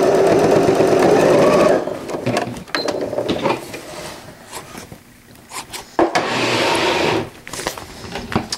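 A sewing machine runs in a fast steady whirr while stitching a cloth all-in-one diaper, then stops and restarts in short bursts, with rubbing and handling of fabric in the pauses.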